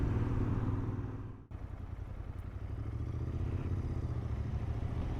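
Royal Enfield Interceptor 650 motorcycle pulling through the mid-range, steady engine drone with a brief dip like a gear change, then resuming a continuous throaty hum.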